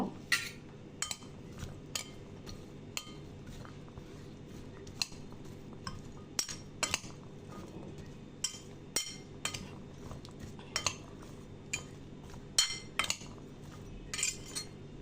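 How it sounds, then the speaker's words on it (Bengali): Spiced chickpea chaat salad being mixed with mustard oil, a spoon repeatedly clinking and scraping against a bowl in irregular sharp taps over a quiet background, no voices. "দিব তেল এখানে আমি সরিষার তেল নিয়েছি তো সব কিছু দিয়ে ভালো করে মিশিয়ে নিব"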